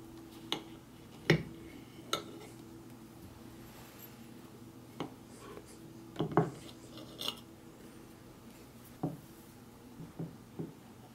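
Shelf-stable stuffed French toast from a Bridgford ration pack being cut up, a series of sharp, scattered clicks and taps of a utensil against a plate or tray, close and quiet between strikes, no voices.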